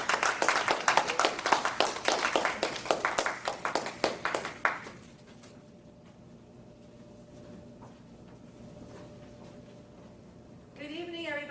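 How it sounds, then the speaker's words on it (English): A small meeting audience claps to welcome the Toastmasters, sharp distinct handclaps for about five seconds that stop abruptly, then a quiet room with faint background hum before a voice begins speaking. "So have a round of applause to welcome them up here"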